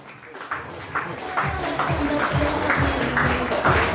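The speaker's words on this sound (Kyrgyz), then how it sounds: "Сиздер болсо кол чаап коштоп" Guests at a Kyrgyz wedding feast in Korea clap together in a steady rhythmic beat that grows fuller over a few seconds, with crowd murmur beneath.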